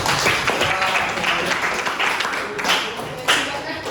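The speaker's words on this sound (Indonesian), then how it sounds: "Tepuk tangan buat kelompok 1." Classroom audience applauds group 1 after their presentation, a dense burst of clapping that fills the moment, with voices mixed underneath.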